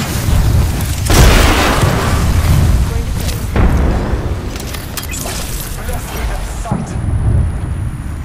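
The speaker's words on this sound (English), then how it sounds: "Thermite grenade out." Thermite grenade bursting in the Apex Legends video game, with heavy booming blasts and crackling fire layered over dense battle noise, loud and close, recurring several times.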